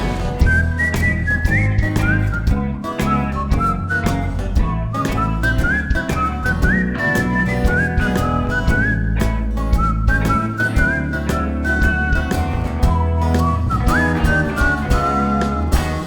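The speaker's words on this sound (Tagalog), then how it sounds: "Instrumental na may sipol" A whistled melody carries over steady instrumental backing, the tune rising and falling in clear phrases throughout, loud and close.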